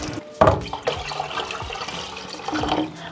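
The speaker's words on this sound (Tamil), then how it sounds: "இப்போ இன்னும் கொஞ்சம் தண்ணி ஊற்றணும்." Water poured into a pot of rice while cooking coconut milk pongal, a close, splashing, gurgling stream that runs steadily throughout.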